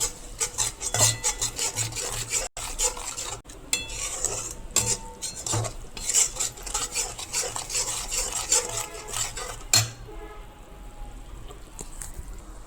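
A spoon scrapes and stirs turmeric and coriander into a cooking mixture in a pan, a run of repeated rasping, clinking strokes close up, stopping near the end.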